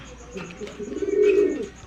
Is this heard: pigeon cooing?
yes